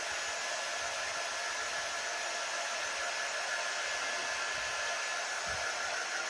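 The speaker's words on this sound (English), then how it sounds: "watching my son vacuum the floor" A vacuum cleaner runs steadily across a household floor, a loud, constant broadband whoosh for the whole stretch with no pauses and no voices over it.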